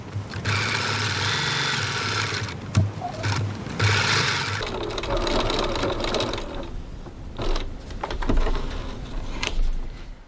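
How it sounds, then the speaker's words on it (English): A sewing machine top stitches around a wallet flap, running with a steady, fast mechanical whir and needle chatter. It pauses and changes pace briefly partway through, with some handling noise toward the end. "I'm just going to top stitch around my flap."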